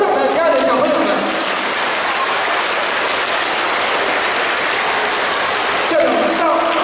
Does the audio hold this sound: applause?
yes